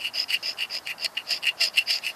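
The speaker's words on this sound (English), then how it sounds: "Let's see if I can scrape away some of the" Repeated rhythmic scraping of oxidation off the surface of a cast copper ingot, about a dozen even rasping strokes, close and fairly loud, with no voices.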